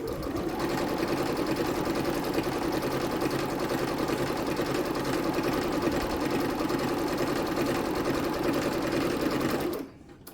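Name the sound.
sewing machine stitching quilt seams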